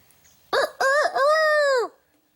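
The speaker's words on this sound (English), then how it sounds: "He's like, damn, there's another rooster." A rooster crows once nearby, loud and clear, a short rising note followed by a long sustained call lasting over a second, with no talk.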